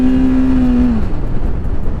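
A TVS Apache RTR 310 motorcycle downshifting with its quick shifter, a loud close engine note holding steady and then dropping in pitch, giving way to a rougher, rumbling exhaust sound.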